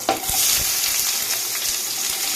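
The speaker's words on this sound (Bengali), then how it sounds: "তো আমার তেলটা গরম হয়ে গেছে আমি এটা এবার পেঁয়াজগুলো দিয়ে দেব" Sliced onions drop into hot white oil and fry with a loud, bubbling crackle, a sharp splash of contact at the start and continuous sizzling with occasional stirring knocks.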